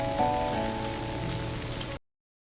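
Steady hiss of rain falling in a farming video game, even and continuous, then cutting off abruptly.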